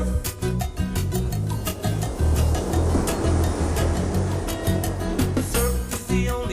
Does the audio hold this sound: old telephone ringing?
no